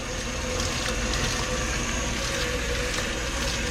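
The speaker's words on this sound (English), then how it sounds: "I have a bathing system. It mixes the soap with the shampoo, or the water with the shampoo or soap" A dog grooming bathing system that mixes shampoo into the water pumps soapy water in a steady, close hiss and gush with a low motor hum underneath, continuous throughout with no talking.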